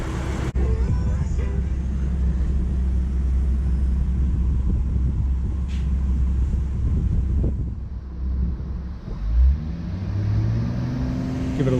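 A 2011 Ford Mustang V6 idling after an oil change, a steady low engine rumble with wind buffeting the microphone, then a slight shift in tone near the end.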